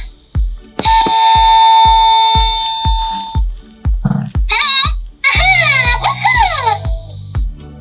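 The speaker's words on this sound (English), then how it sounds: "we have to press the front gem, which is sort of like his doorbell." A bright electronic doorbell chime from a Magic Mixie genie toy plays a sustained ringing tone, then a series of warbling melodic notes, loud and close, over a steady rhythmic tapping.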